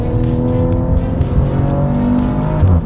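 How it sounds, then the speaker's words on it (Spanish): A Maserati Levante sport SUV engine revs hard through gear shifts, a loud, close, continuous growl with rising and falling pitch and brief dips at each change, no voices. "Y no sé si notaron el sonido del motor."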